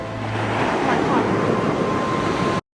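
Ocean surf washing in steadily in a scene from a show, a broad continuous roar with some wind buffeting the microphone, loud and sustained until it cuts off abruptly.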